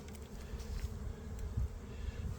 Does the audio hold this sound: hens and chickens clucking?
no